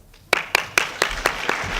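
An audience at a 1965 UCLA evening event gives a short round of applause, heard as about six distinct claps spaced out in a loose, uneven rhythm over steady room noise.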